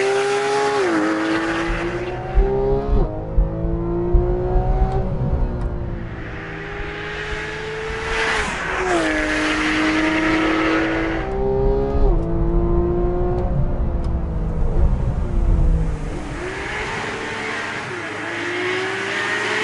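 A high-revving 2014 Porsche 911 GT3 engine climbs and drops through gears repeatedly, with rising and falling howls and occasional tire noise.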